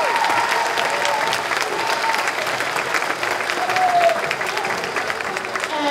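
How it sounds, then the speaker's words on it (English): A loud, sustained round of applause from the audience at an elementary school spring concert, dense and even with a murmur of crowd voices underneath. "So big round of applause for Mr. Getzey."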